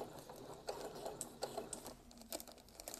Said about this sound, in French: Je baisse mon aiguille, 2 points en avant, 2 points en arrière et je continue.